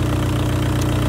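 A VW Golf 4 1.9 SDI diesel idles while warming up, a steady low throbbing clatter with even, rapid pulses, close and constant throughout without speech.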